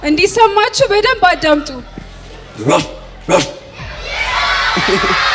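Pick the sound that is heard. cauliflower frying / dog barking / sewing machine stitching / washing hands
dog barking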